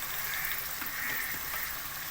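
Chicken keema with peas simmers in half a cup of added water in a pan, giving a soft, steady bubbling and light sizzle, faint and continuous.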